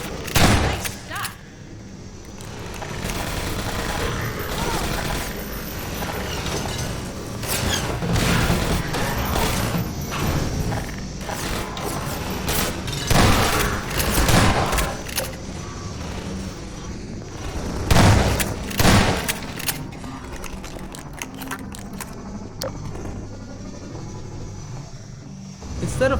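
Helicopter gunship crashing into an attic in the video game Half-Life 2: Episode One, heard as a chaotic run of loud gunfire bursts, booms and crashing impacts with rotor and mechanical noise throughout, with someone talking over parts.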